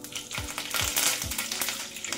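Mustard seeds and curry leaves crackle in hot oil while tempering for masale bhat, a close, lively sizzle with spattering pops and a few dull knocks from a stirring spoon, with no voices.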